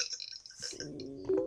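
A woman burps loudly and close, one drawn-out voiced belch that rises near the end, with faint clinking before it.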